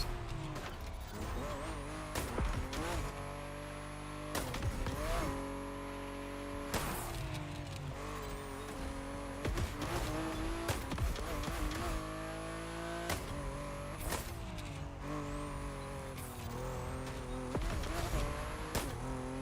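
Mazda Miata racing in the video game The Crew Motorfest, engine revving and shifting in repeated climbing pulls with tire squeal, steady and close throughout.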